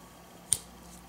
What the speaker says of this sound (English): you have to unfold the scissors to get at that